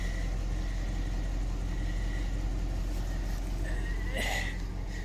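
A GSPSCN dual cylinder 12V air compressor inflates a tire, running as a loud, steady drone close by throughout, with a brief higher hiss near the end.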